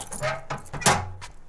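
Keys jangle close by as a key is handed over, giving several bright metallic rattling bursts in quick succession with a sharper clink near the end.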